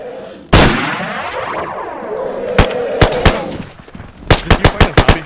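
Video game gunfire in the zombie survival game DayZ: a loud close shot with a long echoing tail, then scattered single shots and a fast closing burst of rapid gunfire.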